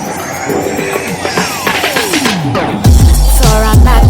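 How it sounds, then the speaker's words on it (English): A 1972 Tube Stock train on the London Underground Bakerloo line whines loudly as its motor pitch sweeps down steadily, then deep rumbling and a heavy low drone take over as the carriage rolls on. "These trains have a nice motor sound."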